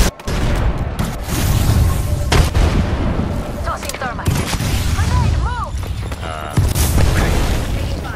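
A frag grenade goes off in the battle royale game Apex Legends amid dense, loud gunfire and booming blasts, with several explosions and rapid shots layered over a player's voice.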